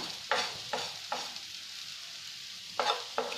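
A spoon mixes a masala blend of cumin powder and chaat masala for bread toast, giving several sharp scraping strokes against the pan, with quieter pauses between them.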